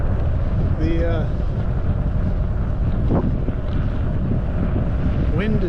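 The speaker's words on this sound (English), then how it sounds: "wind is brisk" Brisk wind roars across the microphone during a fat bike ride on local trails on a Salsa Heyday, a constant low rumble with gusts that stays loud throughout and carries brief faint squeaks.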